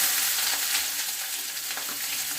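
Onion and green chili hit hot oil with browned urad dal for tomato thokku, giving a loud, steady sizzle with faint stirring scrapes and no voices.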